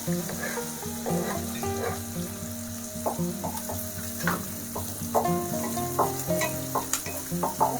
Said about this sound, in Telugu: ఆనియన్ కొంచెం ఫ్రై అయిన తర్వాత